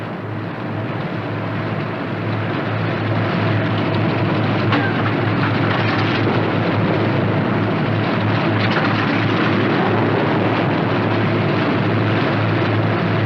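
The left piston engine of a Northrop P-61 Black Widow runs steadily. It makes a loud, continuous droning roar with no break across the whole stretch.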